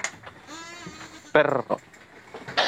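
Goats on a goat farm in Padang, Indonesia, bleating in short wavering calls, with a louder, closer bleat midway and another at the end, mixed with background talk.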